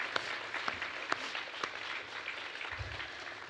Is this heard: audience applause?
yes